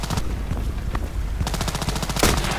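Gunfire in the video game Contract Wars: rapid automatic bursts rattle out close and loud, a brief pause and then another fast stream of shots, with no talk.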